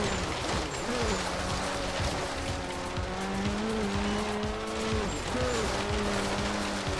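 2013 Ford Focus ST rallycross build racing in Forza Horizon 3: a steady engine drone with rising and falling gear-change pitch sweeps and tire squeal, continuous and loud without pause.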